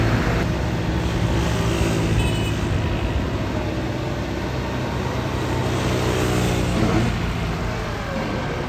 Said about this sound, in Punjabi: ਇਹ ਜੀ 100 ਹਾਰਸ ਪਾਵਰ ਟਰੈਕਟਰ ਪਾਕਿਸਤਾਨ ਦੇ ਵਿੱਚ ਪਹਿਲਾ